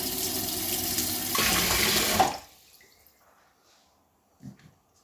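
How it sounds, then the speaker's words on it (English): Warm water runs from a tap into a sink as it fills, a steady loud rushing stream that stops abruptly, followed by a few faint drips and a small clunk in a quiet room. "the first thing I do is I fill my sink up with warm water"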